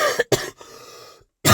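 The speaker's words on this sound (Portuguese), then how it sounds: "a pessoa vai lá e deixa uma tosse no meio do podcast" A person with a lingering flu coughs into the microphone during a podcast, two or three sharp, close coughs followed by a throaty rasp and another cough burst at the end.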